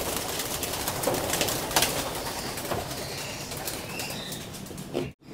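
Young racing pigeons at a loft take off for a training flight, with wing flaps and scattered coos over a steady outdoor wash that cuts off abruptly at the end.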